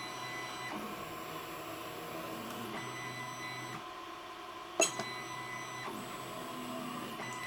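A Wanhao D6 3D printer runs its bed leveling routine, stepper motors whining steadily as the head travels between leveling points, with tonal shifts at each move and a brief sharp click partway through; no talking.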